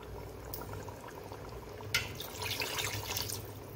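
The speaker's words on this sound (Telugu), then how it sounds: "నేను ఒక ఈ గ్లాస్తో గ్లాసున్నర వాటర్ అయితే వేసానండి, సరిపోయింది." Water pours into a pan of koramenu fish curry, a soft steady trickle and splash close by in a quiet home kitchen, with no talking.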